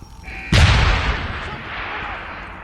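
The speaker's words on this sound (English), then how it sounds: "Fucking gunshots!" A single loud, sharp gunshot blast from the Deus Ex Human Revolution video game cracks out after a brief lead-in, followed by a long, fading reverberant tail.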